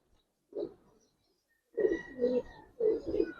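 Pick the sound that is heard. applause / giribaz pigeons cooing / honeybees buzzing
giribaz pigeons cooing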